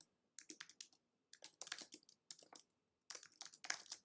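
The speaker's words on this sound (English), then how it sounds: "and just type in a name" Keys clatter on a computer keyboard in short bursts of quick clicks separated by brief pauses, close and fairly quiet, with no voice.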